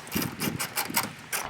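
A ratchet clicks in short bursts while loosening a hidden nut behind the grille of a 1992–1996 Toyota Camry, several quick rhythmic ratcheting runs, fairly close and moderately quiet.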